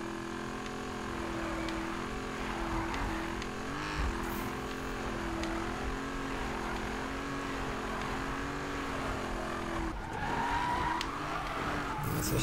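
Race car engine from the 2015 Need for Speed game roars steadily at close range with shifting revs and brief tire skids during racing and drifting, with no talk.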